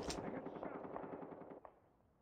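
Machine gun fire in Call of Duty Mobile, a rapid rattling burst of shots that fades out, with a single sharp shot near the end.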